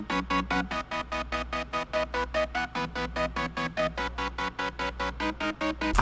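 Hyperpop melody run through a Gross Beat half-beat gate preset and pitched up a semitone, chopped into rapid, evenly spaced pulses over a steady low drone, played alone at a moderate level.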